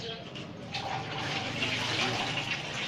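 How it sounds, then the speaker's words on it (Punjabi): Water gushes steadily out of a pipe, a continuous splashing flow that grows slightly louder toward the end. A voice talks over it. "ਦੇਖੋ ਇਸ ਪੈਪ ਤੋਂ ਵੀ ਪਾਣੀ ਨਿਕਲਦਾ"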